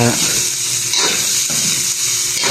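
Ground meat with potatoes and carrots sizzles loudly in a pan while it is stirred, producing a dense hiss with scraping strokes that stays close and strong throughout.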